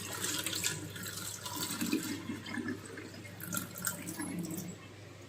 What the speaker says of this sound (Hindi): चावल धो लिए थे, बस ये लास्ट पानी है।